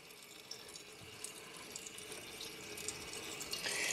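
Water streams steadily into a bathroom drain during a leak test of newly glued waste pipes, a continuous moderate hiss of running flow that swells slightly louder near the end.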